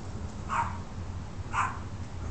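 Two short dog barks about a second apart, moderately close, over a low rumbling background with no talking.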